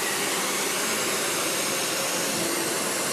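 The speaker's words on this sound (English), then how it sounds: "I'm just gonna shoot the blow dryer up" A hair blow dryer with a nozzle fitted, blowing during a blow-dry styling class, a loud, steady, close whooshing roar that holds unchanged throughout.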